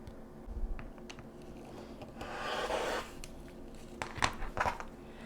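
A rotary cutter rolls across quilt fabric on a cutting mat in one soft, scraping cut lasting about a second. Faint clicks and handling noise from the ruler follow, all quiet and close.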